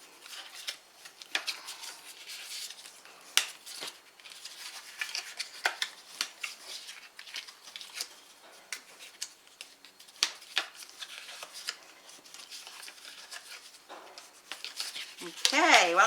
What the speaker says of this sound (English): now we're going to fold and burnish all these score lines